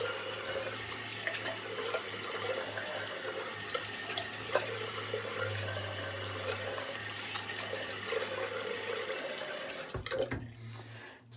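Water from a tap runs steadily into a sink while a Karve safety razor is rinsed beneath the stream, a close continuous splash that cuts off near the end.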